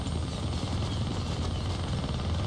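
A helicopter in the Deadpool video game drones steadily with a dense rotor rumble, loud and close and unbroken, with no voices over it.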